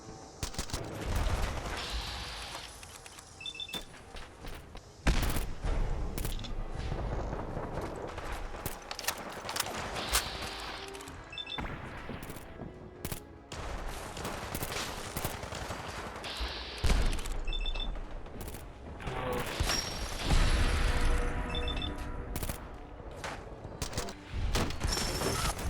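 Gunfire from a hard-hitting gun in the video game Fallout 4 sounds in repeated bursts of sharp shots over a busy game soundtrack and mechanical clatter, loud and dense across the stretch.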